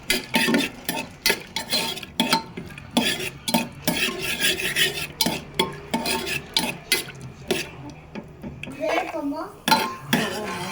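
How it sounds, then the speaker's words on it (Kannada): Cashew nuts stirred in a pan as they fry until golden for ghee rice, with a metal spoon rapidly scraping and clinking against the pan in dense, close strokes, briefly overlapped by a voice near the end. "ಕ್ಯಾಶ್ಯೂ ನಟ್ ಹಾಕ್ಕೊಳ್ತಾ ಇದ್ದೀನಿ. ಹೊಂಬಣ್ಣ ಬರೋವರೆಗೆ ಹುರ್ಕೋಬೇಕು."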